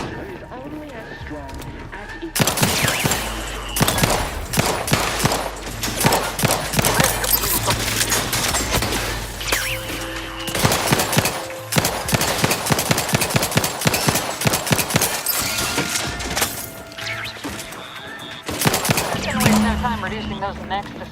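Sustained gunfire in The Outer Worlds 2 shooter game, rapid bursts and volleys of shots crackling continuously over about eighteen seconds, loud and close, with game voices talking at points amid the shooting.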